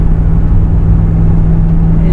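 A Ford F250 with the 6.7 Powerstroke diesel engine pulls a 10k load up a small hill, a steady low engine drone heard from inside the cab, loud and continuous, with no talk.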